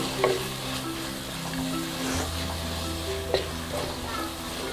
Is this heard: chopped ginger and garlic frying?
yes